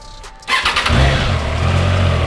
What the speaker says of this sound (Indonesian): kita dengerin cold start-nya Triumph Triguard 660 Sport